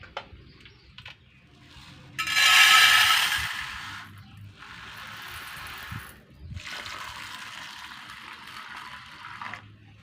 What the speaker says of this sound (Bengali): ডালগুলোকে খুব সুন্দর করে ধুয়ে বেশ কিছু সময়ের জন্য এটা ভিজিয়ে রাখবো